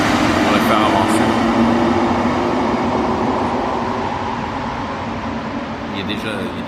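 A metro train pulls away from a station, its broad, loud rumble and rushing roar filling the platform and fading slowly as it recedes, with no voices over it.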